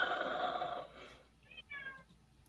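A house cat meows in the background of a home stream, a couple of short high calls heard after a burst of louder noise, with people talking nearby.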